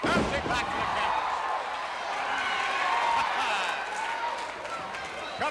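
A capacity wrestling arena crowd roars steadily behind a WWF match featuring the Junkyard Dog, a loud, continuous wash of cheering with a commentator talking over it.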